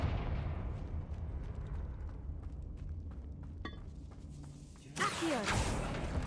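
Confringo blasting spell in Hogwarts Legacy, a low rumbling game ambience that builds into a sudden bright crackling blast near the end, loud and close.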